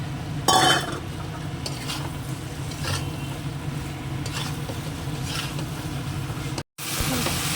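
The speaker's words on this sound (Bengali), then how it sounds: "এবার এইটা দিয়ে আবার একটু কষিয়ে নেবো হালকা" Curry is lightly sautéed in a pan, a steady sizzle with a loud stirring scrape near the start and occasional softer strokes, cut briefly by a moment of silence near the end.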